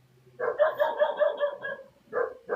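Several dogs bark in quick repeated bursts, fairly close and loud, then break off and start again near the end, heard indoors during a live stream.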